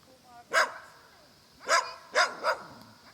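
A Lagotto Romagnolo dog gives a few sharp barks, one alone and then three in quick succession, close and fairly loud against a quiet background, with people speaking nearby.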